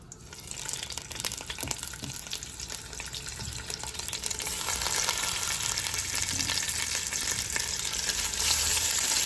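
Oil heating and frying before turkey tails go in, a dense continuous crackling sizzle that grows a bit louder and fuller midway through, close and without voices.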